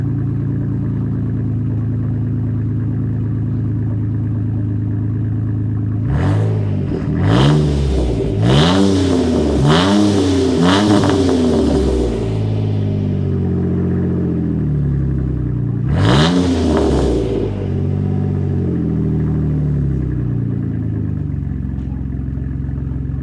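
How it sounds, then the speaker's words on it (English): Cold first start of a Jeep JK with a Flowmaster muffler delete, idling deep and loud, then blipped in a quick cluster of four or five revs and one later rev, each rising and falling back to idle. "It's got a nice deep throaty sound at idle. Sounds really good."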